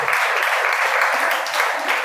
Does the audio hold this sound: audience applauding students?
yes